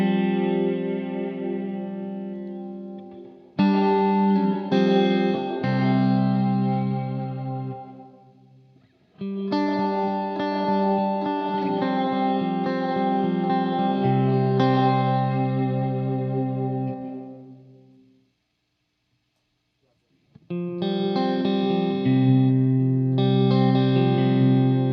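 An electric guitar plays through a POLY Verbs Game Changer reverb pedal on its Capricornia Caves setting, with sustained, lush chords and long washy tails, in phrases separated by brief silences.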